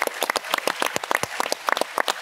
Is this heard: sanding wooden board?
no